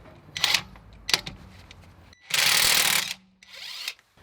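A Parkside impact wrench loosens a car wheel nut tightened to 120 Nm, giving short ratcheting bursts and then a loud sustained hammering whir of under a second, followed by a shorter spin-down burst.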